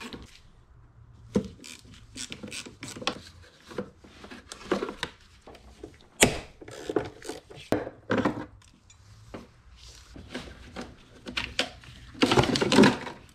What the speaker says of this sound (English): Four 8mm bolts to remove the battery tray.